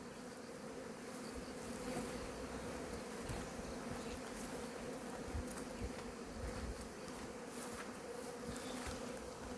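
Honeybees buzz around a hornet trap set by beehives, giving a steady, close, continuous drone of wingbeats with no voices.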